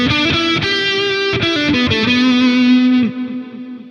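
A distorted lead electric guitar played through AmpliTube 5 with a noise gate rings out in sustained, bending notes with a few sharp picked attacks, loud and alone, then cuts off cleanly as the gate closes.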